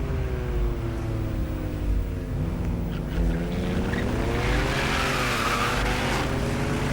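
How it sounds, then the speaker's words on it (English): Chevrolet Corvette C5 fishtailing on a Stockholm street near the Royal Castle, engine revving loudly with a long continuous tire squeal rising and sliding in pitch, close and intense, no talking. "It's a nice fishtailing action."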